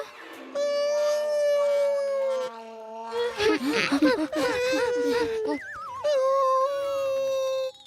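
A man imitates dog howling, giving long sustained wavering howls with whimpering and yipping breaks, loud and close.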